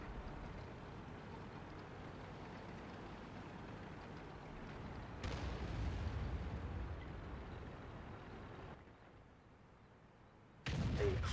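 Explosions and artillery fire in World of Tanks as a JagdPanzer E-100 battles, a steady rumbling roar with sudden louder blasts, heavy low booms dominating with no talking.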